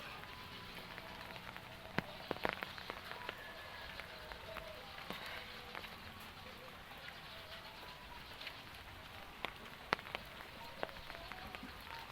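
Steady rain falls on a muddy, flooding area in a quiet, soft hiss broken by scattered drips and small taps.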